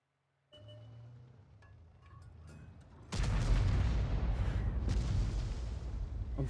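A tank fires a shell in a video game, with a low engine rumble giving way to a heavy, loud boom that rolls on as a sustained roaring blast.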